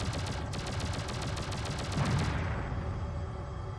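Rapid automatic gunfire in a video game, a dense, steady stream of shots lasting a few seconds before cutting out into a lingering rumble, loud and without talk.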